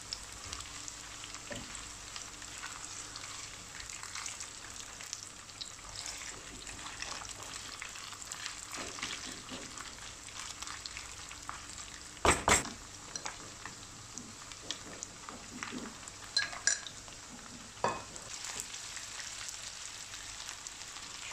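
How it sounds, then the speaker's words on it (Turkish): Onions and chopped chicken gizzards sizzle in a pan, a continuous frying hiss with a few louder stirring scrapes and clacks partway through. "Biraz da böyle kavuracağız."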